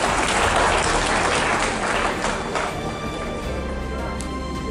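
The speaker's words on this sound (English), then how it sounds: "Can we give a clap to all our students from various schools?" Audience at a University of Kabianga open day clapping warmly, a dense burst of applause that slowly thins and fades over a few seconds.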